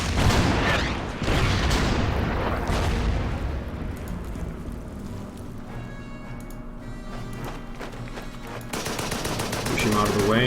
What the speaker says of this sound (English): Just bomb this guy with the artillery.